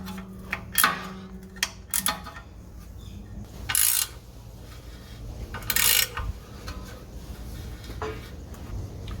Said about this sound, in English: We're going to go and tighten all these nuts and bolts up respectively.